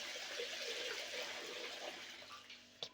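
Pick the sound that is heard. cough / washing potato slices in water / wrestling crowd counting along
washing potato slices in water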